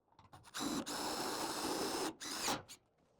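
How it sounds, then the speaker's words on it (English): A power drill drives screws into the roofing of a handmade quail house, running in one steady, close burst of about two seconds that is briefly interrupted, with no speech. "So I'll put the rest of the screws in"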